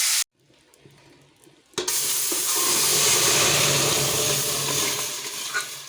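A pressure cooker cooking chicken curry vents steam as a loud, continuous rushing hiss that starts abruptly after a short quiet moment and holds steady to the end.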